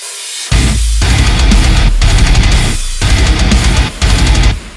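A loud, full band breakdown with heavy distorted guitar, pounding drums and bass, playing in chopped bursts with brief stops between phrases.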